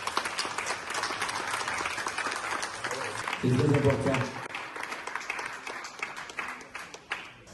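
An audience claps at an African culture day gathering, sustained applause running under a man addressing the crowd in French, swelling briefly in the middle before thinning into scattered claps.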